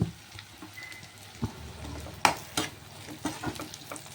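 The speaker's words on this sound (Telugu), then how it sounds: "ఉల్లిపాయలు వేగిన తర్వాత అయితే కరివేపాకు వేస్తాను." Curry leaves crackle with frying onions in a pan, a quiet, close sizzle broken by sharp pops and spatula scrapes, with no voices.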